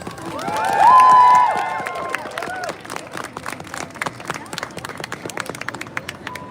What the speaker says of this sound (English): okay, well, give her a very big applause